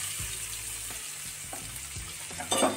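Onions frying in a pan for masala egg bhurji, a steady sizzle running throughout with a few soft stirring scrapes and a brief louder splash of sizzle near the end.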